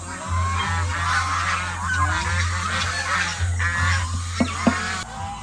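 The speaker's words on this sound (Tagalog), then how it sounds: "Samahan nyo naman ako dun sa ating mga alagang mga gansa." A flock of domestic geese honking nearby, overlapping nasal calls in a continuous noisy chorus with a couple of sharper knocks near the end.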